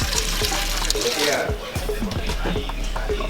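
Cooked macaroni is poured into a strainer to drain, and the hot water gushes and splashes steadily for a few seconds. A person talks over the sound.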